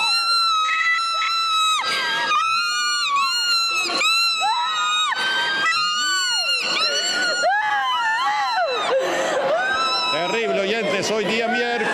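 Loud, continuous screaming and wailing from several people at a Pentecostal church deliverance service in Chosica del Norte, with shouted voices overlapping throughout and no quiet gaps.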